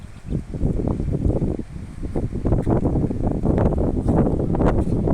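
Wind gusts steadily through a cornfield during a jog, a loud, continuous rushing and buffeting that rustles the stalks and swells and fades in waves with no voices.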